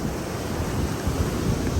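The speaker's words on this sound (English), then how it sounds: "it's pouring down rain" Heavy rain pours on a beach, a dense, steady wash of noise mixed with surf and gusting wind buffeting the microphone, loud and continuous throughout.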